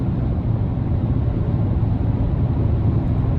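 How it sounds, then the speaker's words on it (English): Steady low hum of aggressive off-road tires heard from inside a 2024 GMC Sierra 1500 AT4X pickup cruising in normal mode, a continuous droning rumble with no talk over it. "You're hearing just that slight hum from these tires being very off-road oriented."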